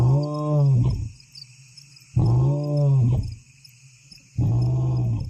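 A lion in Rwanda gives three deep, grunting roars spaced about two seconds apart, loud and fairly close, with crickets and night insects buzzing steadily behind.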